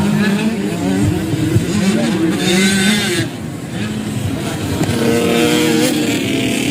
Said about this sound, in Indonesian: Rafa ya hampir mengatur RPM motornya untuk bisa bertahan.